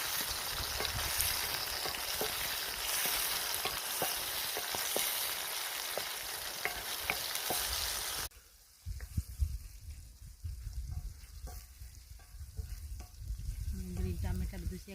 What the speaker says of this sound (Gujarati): ટમાટર નાખી દઈશું આપણે. થોડી વાર શેકાવા દઈશું આવી રીતે.